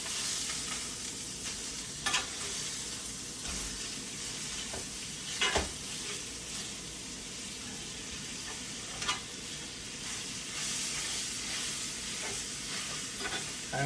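Sausage browning in a frying pan, a steady dense sizzle throughout with a few sharp clicks and knocks of a utensil stirring the pieces.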